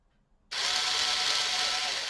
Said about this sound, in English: Don't lean too heavy on the drill either.